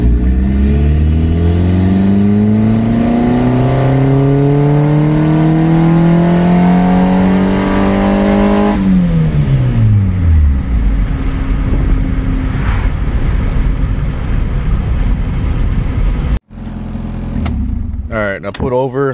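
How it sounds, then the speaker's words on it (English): A turbocharged Honda D16 four-cylinder with Vitara pistons, running 9 psi of boost, pulls hard in second gear from low RPM, its loud, steadily rising engine note climbing before the throttle lifts and it drops to a rough idle. "I'm gonna do a low RPM second gear pull"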